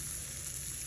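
Chicken coated in sauce sizzles in a grill pan, a faint, steady crackling hiss with a low background hum and no talking.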